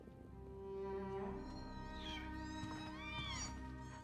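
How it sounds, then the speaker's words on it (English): Many cats meow and yowl in a graveyard, several overlapping calls rising and falling across the scene, with background music and no talk over them. "A lot of cats in a graveyard."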